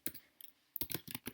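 Computer keyboard typing in short bursts of clicky keystrokes with brief pauses, fairly faint and close, no voices.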